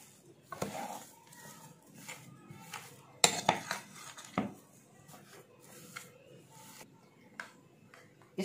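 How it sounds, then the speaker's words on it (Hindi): A utensil knocks and scrapes in a bowl as potato is mixed with salt, giving scattered clinks and a few sharper taps against a quiet background, with no speech. "सिर्फ डालकर इसको मिक्स करते हैं"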